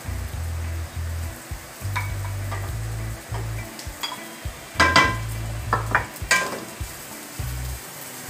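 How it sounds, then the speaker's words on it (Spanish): Vegetables and rice frying in a pan for quail stuffing: steady sizzling under repeated scrapes and clinks of a utensil stirring against the pan, with no voices. "Frying it, guys."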